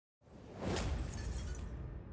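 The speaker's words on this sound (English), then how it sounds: "the tableau in front of me cracks, then shatters, and falls away" Glass cracks and then shatters in a sound effect that bursts in from silence, swells into a bright crashing spray and lingers as a sustained, loud tinkling fall of debris.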